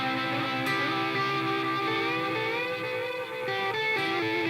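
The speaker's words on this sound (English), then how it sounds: "Put some distortion in front of it." Distorted electric guitar runs into a warm analog delay pedal, a held, gritty sustained line with bending notes and soft repeating echoes behind it, loud and steady with no voices.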